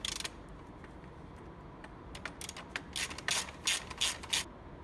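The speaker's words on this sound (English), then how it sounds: "is going to come handy with a ratchet and a 17 millimeter socket" A ratchet with a 17 mm socket tightens an engine guard bolt on a Honda Africa Twin 1000, giving a series of close, quiet clicking bursts that grow faster and louder toward the end over low background noise.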